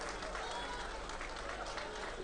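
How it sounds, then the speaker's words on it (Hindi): An audience at a convocation ceremony claps in a steady, dense patter that lasts throughout, with a voice speaking over the applause. "इनको तालियां बजाएंगे।"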